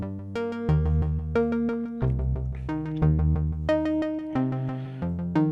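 A Yamaha CS-80 synthesizer plays a sequenced pattern of bright, harmonically rich notes in a steady repeating rhythm with shifting bass tones underneath, clear and alone.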